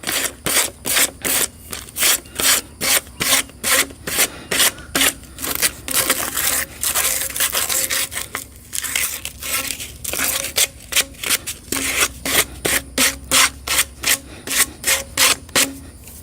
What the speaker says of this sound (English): Now I'm going to clean these edges up with some sandpaper.